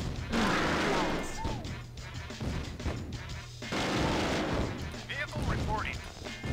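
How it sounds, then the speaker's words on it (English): Machine gun fire in Command & Conquer: Tiberian Dawn, a Nod mission, sounding as rapid rattling bursts and heavy impacts across the battlefield, mixed with unit voice responses and other game sounds. "That's quite a decent rate of fire on that machine gun."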